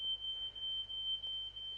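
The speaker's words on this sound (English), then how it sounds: "I do apologise again for the smoke alarm at the background." A smoke alarm gives a steady, piercing high-pitched tone in the background of an indoor room during commentary on a sim racing league's Australian Grand Prix round, holding continuously and faintly throughout with no talk.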